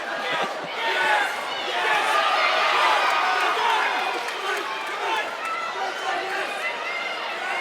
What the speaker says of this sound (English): The crowd has gone absolutely berserk